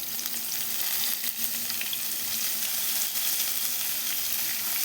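Stuffed brinjals frying in a pan with turmeric and asafoetida, a loud, even sizzle that holds steady throughout with slight crackling texture and no voices.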